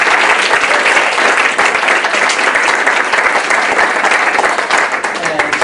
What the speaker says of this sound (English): So I want to give a big round of applause to Deb.